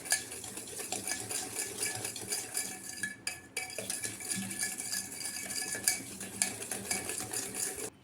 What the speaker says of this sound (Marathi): तर साखर पण याच्यामध्ये छान आपण फेटून घेणार आहे।